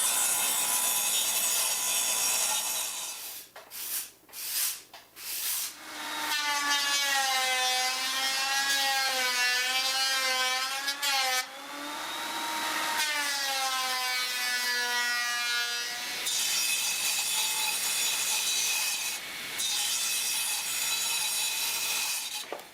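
Saw cross-cutting a wooden board in a woodworking shop, a loud steady rasping cut that starts after a few short bursts and runs for about ten seconds with a wavering whine, followed by further sustained machine noise.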